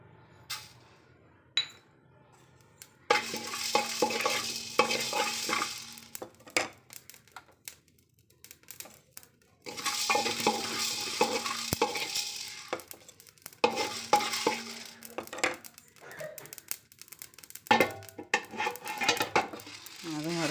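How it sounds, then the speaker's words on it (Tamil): Black pepper and cumin dry roast in a pan for anna podi, with scraping stirs and light clinks of a spoon against the pan coming in bursts separated by quiet pauses. "வறுபட்டுட்டு எடுத்துருவோம் குருமிளகும் ஜீரகம் எடுத்துருவோம்"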